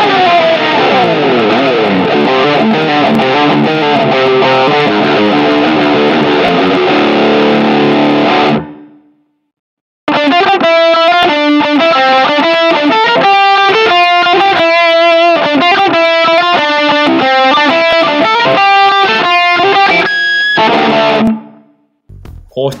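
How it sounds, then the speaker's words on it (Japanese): Refinished cheap junk electric guitar played through a heavily distorted tone: a sustained chord ringing out, a brief pause, then a loud, rhythmic riff of chugging chords that cuts off at the end. "次は歪み音色です。"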